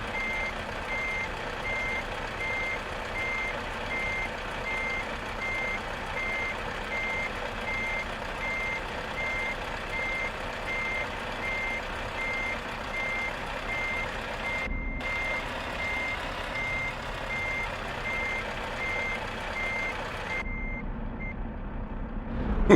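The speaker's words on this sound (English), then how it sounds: "Do you not like that beep beep beep?" A haulage truck backing up, its reversing alarm beeping in a steady, evenly spaced rhythm that carries on without pause, with engine hum underneath and no voices.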